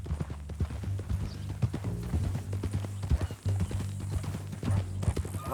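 A horse trotting in Red Dead Redemption 2, giving close, steady clip-clop hoofbeats over a low rumble, with no talk.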